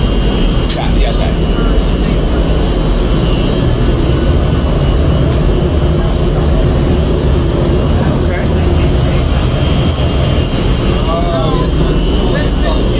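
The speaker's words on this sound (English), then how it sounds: "Since this is a blower" Blower of a Spencer wind compressor supplying the world's largest theatre pipe organ, a loud steady mechanical roar and rush of air running continuously throughout with no break.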